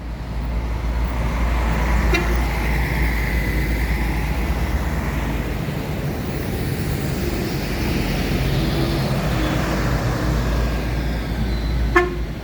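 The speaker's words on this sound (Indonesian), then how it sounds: "Kejar-kejaran 3 bus" Three buses travel together on a road in West Sumatra, with continuous loud engine and road noise, a horn toot near the start and another sharp honk near the end.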